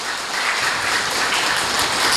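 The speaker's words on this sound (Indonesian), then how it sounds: "tepuk tangan untuk para narasumber kita yang luar biasa" Applause fills a hall at an Indonesian palm oil outreach and expo event, a steady dense wash of many hands clapping together with no pauses and no voices above it.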